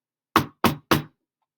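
Three quick, solid knocks on a door, evenly spaced and fairly close, with silence around them.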